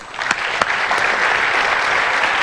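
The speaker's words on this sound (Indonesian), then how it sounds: "Baik, tepuk tangan dulu." Steady audience applause fills a hall during an Indonesian political campaign team debate, a dense, even wash of many hands clapping close and loud, with a couple of sharper individual claps standing out near the start.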